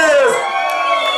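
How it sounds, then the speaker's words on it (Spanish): A wedding party crowd in San Martín Cuautlalpan shouts and cheers together on cue, a loud sustained roar of many voices close to the microphone. "Quiero escuchar el grito de toda la gente que viene a divertirse esa noche."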